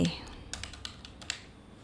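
Keys on a computer keyboard tap out a formula in an Excel spreadsheet, a short run of light, close clicks at an uneven pace after a brief sound at the start.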